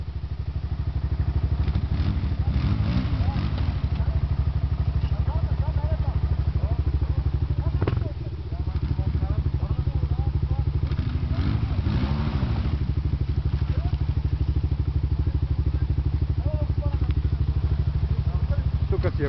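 A 4x4 off-road vehicle on a mountain plateau runs its engine steadily and loud throughout, with throttle surges and clattering from the drivetrain, while people talk and shout over it.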